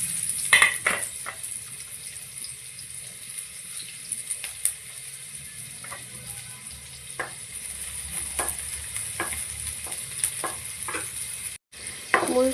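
Chopped onions fry in hot oil in a wok, giving a steady close sizzle broken by scattered clicks and scrapes of stirring.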